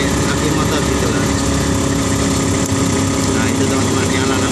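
A motorcycle engine runs nearby to power car lights, giving a continuous loud, steady idling drone with no break.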